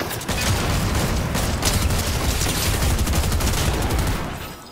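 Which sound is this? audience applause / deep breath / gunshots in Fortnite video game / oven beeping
gunshots in Fortnite video game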